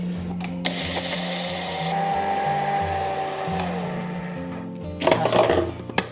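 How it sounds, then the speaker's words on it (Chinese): A high-speed blender grinds lightly toasted rice into powder: a close, whining motor hum that steps up and down in pitch as the grains break up, ending in a rattling burst near the end. "直接加入到破壁机里面打成粉"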